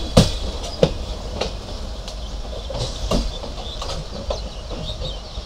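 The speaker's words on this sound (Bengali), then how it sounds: "ভাঙার দিকে ঢুকতেছে আমাদের ট্রেন, ওই যে লুপ লাইনে ঢুকছে।" The Sundarban Express rolls into a loop line with a rumbling roar and several sharp rhythmic clacks of wheels over rail joints, heard from aboard.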